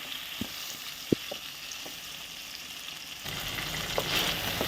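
Onion-and-spice ingredients for an egg gravy curry fry on a low flame, giving a gentle steady sizzle dotted with a few light clinks of a spoon, growing a little louder toward the end.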